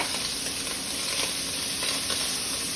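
Prawns sizzle steadily in olive oil in a hot pan, a loud, even, close frying hiss with faint stirring and no voices.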